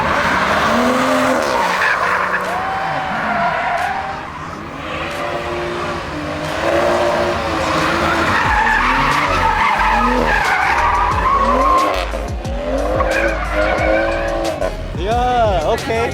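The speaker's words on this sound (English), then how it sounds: "No wonder this shit slides so good." Tires screech and skid continuously as cars drift at a Miami street drift meet with Corvettes, BMWs and Hellcats, engines revving loudly throughout with sweeping pitch changes, while people talk and shout nearby.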